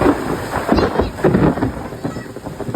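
Loud, steady first rain of the season in a village near Botad with deep rolling thunder rumbling through it, close and continuous, with no voices.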